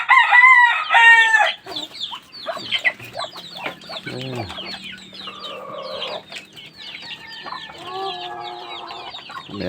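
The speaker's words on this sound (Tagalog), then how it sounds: "So, tandang sila." Roosters cluck and crow repeatedly at a poultry feeding spot, with several loud, close calls overlapping one another and a few other birds chattering in the background.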